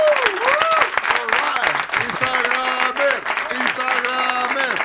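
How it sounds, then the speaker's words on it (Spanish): A studio audience at a Spanish comedy talk show claps and cheers loudly throughout, with people whooping and calling out over the sustained applause. "tenemos a Carlota Esquella, un aplauso para ella que está allí"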